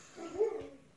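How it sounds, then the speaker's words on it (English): A dog barks once in the background, a brief, muffled, faint yelp set against a quiet indoor room. "he's just barking like crazy"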